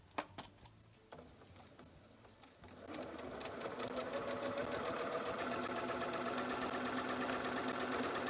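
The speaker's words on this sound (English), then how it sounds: "I'll start sewing this one" A few soft clicks and handling noises give way to a sewing machine with a 1/4 inch foot stitching quilt block pieces, its rapid, even mechanical chatter starting and running steadily up close.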